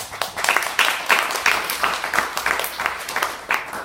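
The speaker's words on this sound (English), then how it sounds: "can we just do a round of applause and say we're going to respect each other?" An audience in a room breaks into a round of applause, many hands clapping in a lively uneven patter that holds steady throughout, with faint voices mixed underneath.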